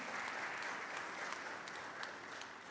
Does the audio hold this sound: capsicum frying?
no